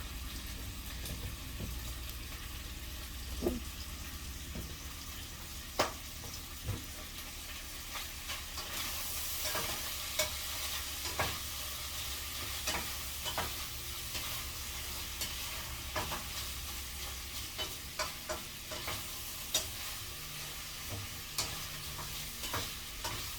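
Garlic and onion sizzle steadily in hot oil in a home kitchen frying pan, with a continuous soft hiss broken by intermittent scraping clicks of a spatula stirring, close and fairly quiet.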